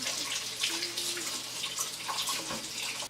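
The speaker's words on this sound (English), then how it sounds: "So I'm gonna rinse these off." Tap water runs steadily over sharp spiralizer blades being rinsed in a sink, with a continuous near splashing hiss and no talking.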